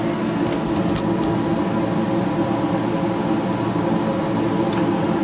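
A CNC laser cutting machine running steadily, giving a loud, constant mechanical hum and whir with fan-like noise and a few faint clicks, without speech.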